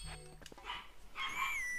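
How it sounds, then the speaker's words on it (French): A pet dog barks and yips faintly in the background of a room, mixed with game sounds from The Legend of Zelda: Twilight Princess. "si vous entendez mon chien"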